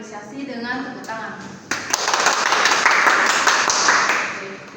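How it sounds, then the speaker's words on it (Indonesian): Classroom applause for group 2: a voice speaks briefly, then a burst of many hands clapping breaks out and holds steady and loud to the end. "Untuk itu kita berikan apresiasi dengan tepuk tangan"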